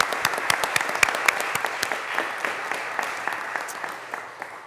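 Audience applause fills a county board of commissioners meeting in Randolph County, North Carolina, a steady patter of many hands clapping that holds for several seconds and tapers slightly toward the end.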